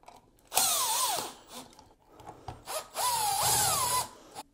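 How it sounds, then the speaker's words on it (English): A power driver runs screws that fasten a Feit WiFi dimmer light switch to a junction box, giving two close whirring bursts with rising and falling motor pitch and brief pauses between them. "Now we're going to secure these two screws to secure the light switch to the junction box."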